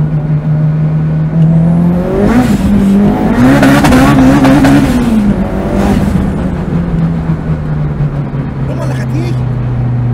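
A 500 hp Citroën Saxo revs hard and accelerates, its engine note rising and falling loudly from close inside the car, then settling into a steady drone.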